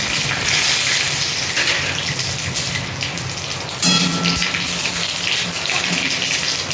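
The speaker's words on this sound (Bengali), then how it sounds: "তেল গরম হয়ে গেছে, এখানে 5 ফোড়ন আর সর্ষে আছে" Panch phoron and mustard seeds sizzling in hot oil for a mango and mourala fish sour curry, a steady broadband frying hiss lasting the whole clip with a brief louder surge of crackle near the middle.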